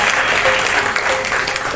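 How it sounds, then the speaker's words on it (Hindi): An audience at a Man Ki Baat listening gathering held by the Govindpuri mandal claps loudly to welcome a speaker, a short, dense, steady burst of close applause. "एक बार जोरदार ताली बजाकर आप स्वागत करेंगे"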